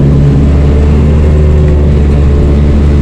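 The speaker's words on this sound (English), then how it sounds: "those tires are really loud on the highway" Suzuki Carry kei truck driving on a highway, a loud, steady roar of tire and road noise with a low engine drone inside the cab, constant and close with no talking.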